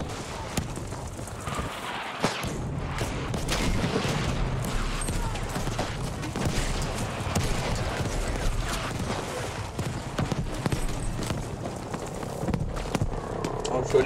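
Artillery fire in the video game Battlefield V, heard as dense rumbling explosions and blasts over continuous battlefield noise, while a player talks over it.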